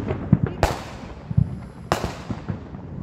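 Backyard fireworks go off nearby, with two sharp loud bangs standing out amid a scatter of smaller crackling pops and distant bursts.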